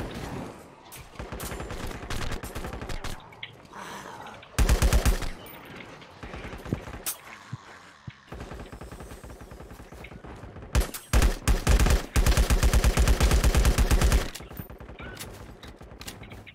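Rapid bursts of automatic gunfire from a shooter video game, with dense overlapping shots and louder close volleys across the whole stretch, continuous and loud.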